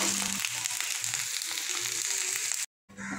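Potatoes frying in a pan give a steady, dense sizzle that runs unbroken for about two and a half seconds, cuts out briefly, then comes back just as loud.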